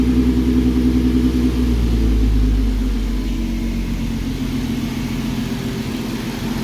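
A Nissan GT-R built with an Alpha 9 package and a UPR catch can revs loudly and up close, with a deep rumbling engine note and a faint intake whoosh audible through it. Nobody speaks.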